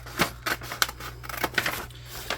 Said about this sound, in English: So then I come in here and I just cut along the bottom seam,